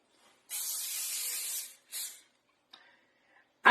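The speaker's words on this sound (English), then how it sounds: "Now get a 9x13 pan and coat it with cooking spray" Cooking spray hisses from an aerosol can onto a 9x13 baking pan in a long burst, then a shorter second spray, followed by faint clinks in a quiet kitchen.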